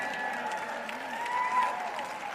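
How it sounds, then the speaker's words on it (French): An audience applauding during an evening sermon, a soft, steady patter of many hands clapping at a distance, with a faint voice running underneath. "vous n'applaudissez pas pour ça aussi fort que vous le devriez"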